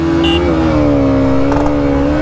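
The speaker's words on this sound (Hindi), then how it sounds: "पहले मैं चलाऊंगा KTM की ड्यूक 200 BS6 फेज 2 वर्जन" A KTM Duke 200 BS6 Phase 2 motorcycle accelerating in a drag race, its engine holding a loud, steady high drone with a slight dip in pitch as it pulls, heard close up.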